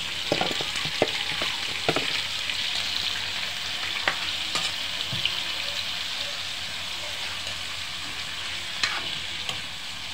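Octopus sautéing with spices in a pan makes a loud, steady hiss of frying, punctuated now and then by sharp clicks of a utensil against the pan.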